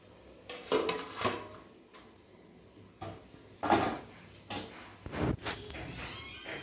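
A lid clatters onto a cooking pan while rice pitha cooks in a Bengali kitchen, giving several close metallic knocks and scrapes spread over a few seconds, with no talking.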